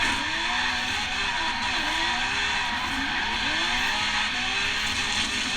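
A race car drifts on a track in Forza Horizon 3, engine droning loudly and continuously while tires squeal in long wavering sweeps, with no talk over it.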